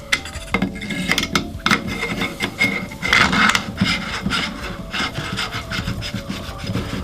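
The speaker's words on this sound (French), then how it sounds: "pour verrouiller le tout, on va remettre le silencieux" Suppressor being screwed back onto a Scorpion EVO3 airsoft gun, close scraping and rubbing of threaded parts with small clicks and irregular rasping strokes throughout.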